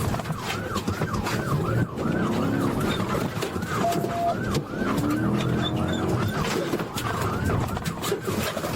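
A rapid warbling police siren wails repeatedly over steady road and engine noise, loud and close, with a few brief horn-like tones.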